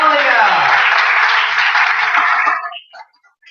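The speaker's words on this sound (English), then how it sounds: "let's give a big round of applause for Talia." An audience applauds after a performance at a charity music event, a dense, loud burst of clapping and cheering that fades out after about two and a half seconds, followed by brief voices.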